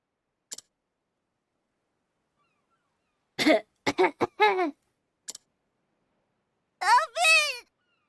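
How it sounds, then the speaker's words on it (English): A person gives several short, dry coughs in bursts, with a couple of isolated clicks or throat sounds between them, in an otherwise quiet room. "I apologize if my coughing noises are obnoxious."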